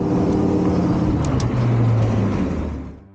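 REVR V5 Pro moto-style electric bike riding on throttle, a steady loud road and motor drone with wind rush and a rising hum, fading out at the end.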